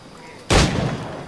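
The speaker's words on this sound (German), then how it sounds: "Während die Granate da explodiert." A grenade explodes in the pirate-era video game Assassin's Creed IV: Black Flag, a single sudden loud boom that decays over a second.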